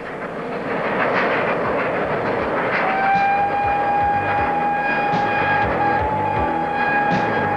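A train hauled by the steam locomotive Pendennis Castle rumbles steadily across the Swan River bridge at Fremantle, Western Australia, with a rhythmic clatter, then a long whistle sounds and holds over the rolling noise.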